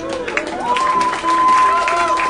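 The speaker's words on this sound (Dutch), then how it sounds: "Een applaus voor Milou graag." A crowd at a classical music festival afterparty applauds and cheers for an opera performer, a loud continuous wash of clapping with a sustained whistle-like tone and voices mixed in.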